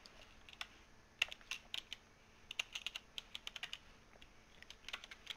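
Typing on a computer keyboard, a quiet run of quick clicky keystrokes in irregular bursts, close and alone.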